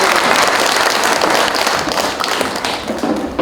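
Audience applause at an outdoor-style concert event in Jinju, a dense sustained patter of many hands clapping close by, easing slightly toward the end with scattered taps.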